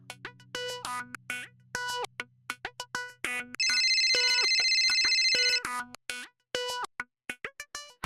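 A phone ringtone plays as a choppy electronic melody of short tonal bursts with a sustained shrill chime in the middle, loud and clear with no talk over it.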